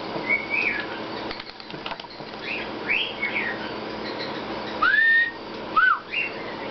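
A bird whistles a few short rising and falling notes close by, with soft rustling and fluttering between the calls.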